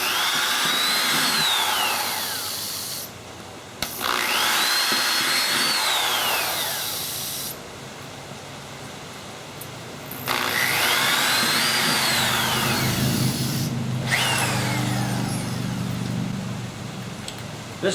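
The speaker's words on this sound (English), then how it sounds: "This drill bit I'm using is what's called a step drill." A step drill bit bores a large hole while building a homemade riot shield, the power drill whining in three long bursts with short pauses between them and its pitch rising and falling as the cut progresses.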